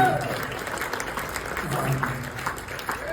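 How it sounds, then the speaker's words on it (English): Hall of Fame ceremony audience applauding The Buckinghams, a steady roomful of clapping with a voice speaking over it. "I wish you would join me in giving them a round of applause for being the Buckinghams straight out."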